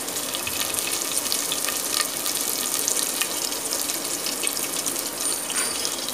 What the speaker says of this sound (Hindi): और हरी मिर्च डाल रही हूँ।